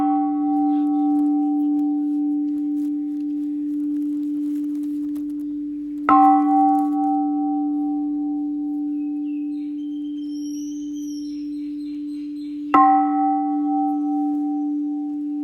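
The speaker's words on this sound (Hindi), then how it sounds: "अचानक मंदिर की घंटियां अपने आप बजने लगीं।" A temple bell rings twice. Each strike is a sharp metallic clang followed by a long sustained ringing tone that continues through the pause until the next strike, with a faint high chirp in between.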